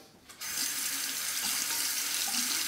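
Steady running tap water rushes into a sink as a straight razor is rinsed beneath it, a constant close hiss with faint clinks, no talking.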